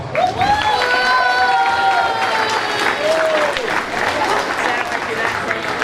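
Applause and cheering from the crowd at a youth sports team's awards banquet, with sustained clapping and whoops, and shouted voices and whistles rising above the clapping.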